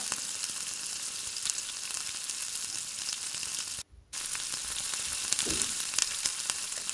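Chicken and capsicum for street-style tawa chicken cooking on a covered tawa over low flame, giving a steady, moderate sizzle and frying hiss that runs throughout with one very brief dropout.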